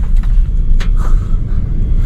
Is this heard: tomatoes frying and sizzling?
no